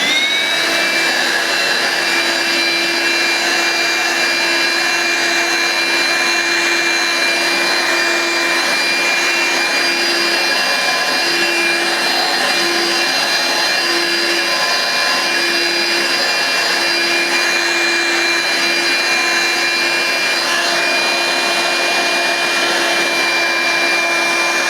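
A Hoover S1083 Brushvac hand-held vacuum cleaner runs loud and close, a steady unbroken motor whine with airy hiss held for the whole stretch.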